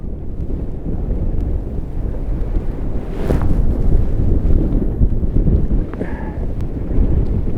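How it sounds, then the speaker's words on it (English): Strong wind blows across an outdoor fishing reservoir at Southfield during a fishing match, a loud, continuous rumbling buffet on the microphone that swells slightly midway, with no voices. "so this wind is just insane today"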